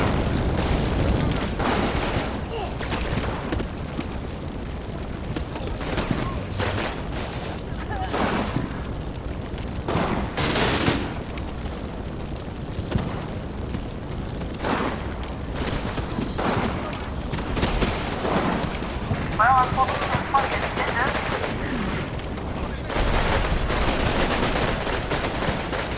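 Gunfire and booming explosions from a war strategy game featuring a German meeting engagement roll on in dense, repeated bursts, mixed with voices talking throughout.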